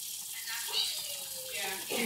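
Tap water runs steadily into a sink while a young girl's hair is washed over it, a soft continuous splash with faint voices in the background.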